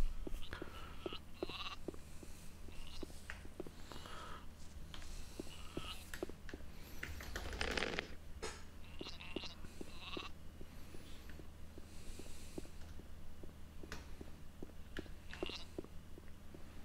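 A sheep bleats repeatedly in the Gothic 2 video game, short quiet bleats scattered over a low hum with soft clicks and rustles.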